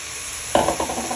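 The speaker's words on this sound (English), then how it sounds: "You want to give them a bit of frying into your mince so they sweat down your onions and garlic" Steady sizzling of onions, garlic and peppers frying in a pan with browned mince, with a few stirring scrapes and bursts of louder crackle partway through.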